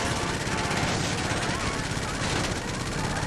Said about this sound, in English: that's pretty strong machine gun right there, people